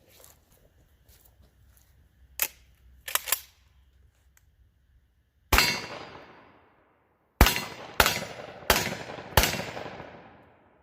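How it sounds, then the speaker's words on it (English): Buckshot strikes an AR550 steel armadillo target at short range: two rounds of #1 buck then three of #4 buck, each a sharp metallic clang with a ringing decay, spaced about a second apart, preceded by a few fainter knocks. "now we got 2 rounds of number 1 buck, followed by 3 rounds of 4 buck."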